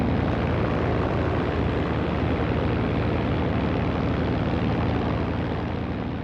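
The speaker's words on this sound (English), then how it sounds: "This is an RAF P-40 in North Africa in 1942." RAF Curtiss P-40 fighter over North Africa in 1942, its piston engine producing a steady, loud propeller roar that holds without a break.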